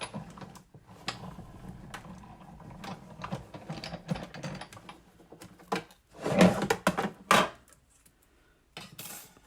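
A die-cutting machine runs a leaf die through for paper crafting, giving a series of dry clicks and grinding crunches that swell to two louder bursts near the end, with no voice over them.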